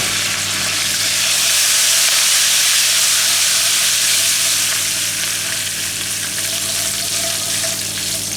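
Curry leaves frying in oil in a pan over a medium gas flame, a steady dense crackling sizzle that holds loud and close throughout with no talk.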